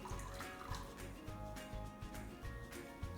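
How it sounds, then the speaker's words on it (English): A small splash of milk poured into a bowl of cracked whole eggs for an omelette, giving a soft, faint liquid trickle and drip close by, with quiet kitchen clatter around it. "what I'm also gonna do is just add just a little splash of milk"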